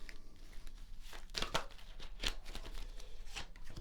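Tarot cards are shuffled by hand in a quiet room, making soft, irregular riffling and crinkling bursts that come close together and stay fairly faint.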